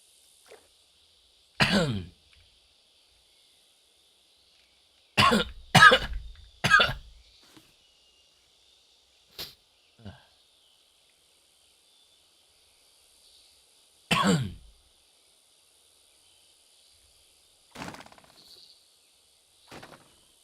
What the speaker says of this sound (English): Coughing is that loud.